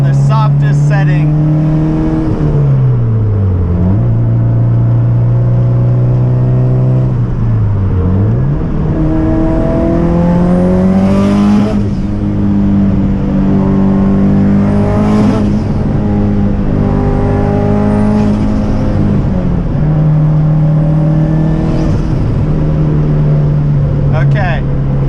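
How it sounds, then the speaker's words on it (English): Loud, steady drivetrain whine and engine drone from a car with solid drivetrain bushings and Faction Fab FR-Spec coilovers on the softest setting, pitch rising and dipping as it drives. "don't mind all of the loud drivetrain noises. I've got solid bushings through a lot of the drivetrain. It's super loud."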